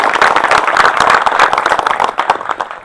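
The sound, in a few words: crowd applause welcoming a speaker at a rally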